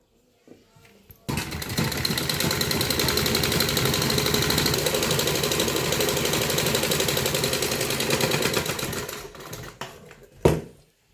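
Sewing machine running continuously and fast, stitching the lining of a net kurti with a steady rapid mechanical whir, starting abruptly and stopping after about eight seconds with a final clunk.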